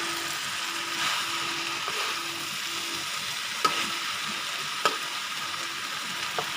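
Sambal petai stirred in a frying pan, a steady sizzle and frying hiss running throughout with a few soft scrapes of the utensil, no voices.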